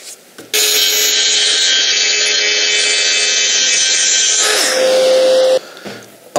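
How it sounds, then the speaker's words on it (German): A power saw runs steadily for about five seconds, cutting a stone countertop panel, a loud, even buzzing whine that shifts pitch near the end before cutting off. "Ich habe die Platte umgedreht, hier jetzt zum Sägen vorbereitet."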